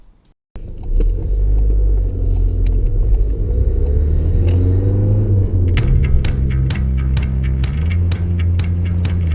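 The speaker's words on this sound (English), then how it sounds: "Start the car, and apply the parking brake to make the hill start easier." A car engine restarts after a stall, catching abruptly after a brief quiet moment and then settling into a steady, loud idle rumble close by. A few faint clicks and knocks sound over it.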